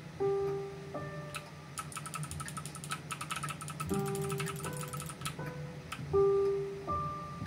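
Clock ticking in the horror game Who Am I? demo, a rapid run of crisp ticks in the middle amid sparse tonal game chimes and tones, with no talking.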